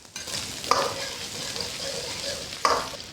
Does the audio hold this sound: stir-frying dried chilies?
yes